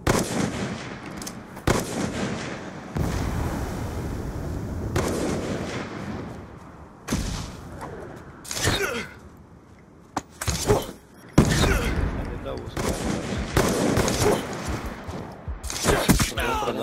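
Gunfire in an online shooter's Search and Destroy match: loud, repeated bursts and single cracks of shots come one after another throughout, mixed with other game noise and short pauses.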